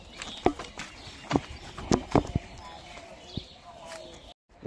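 Cows are led out along a rural path in Nepal, their hooves striking the ground in scattered uneven steps close by, while a person talks over the walking.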